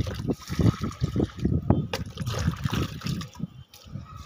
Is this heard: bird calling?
no